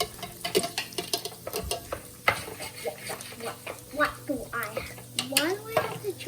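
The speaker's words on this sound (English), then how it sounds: "I'm just gonna pour the whole thing in there." Canned food tipped into a hot pan of beef, sizzling and frying while a spoon stirs and scrapes against the pan, with a person talking throughout.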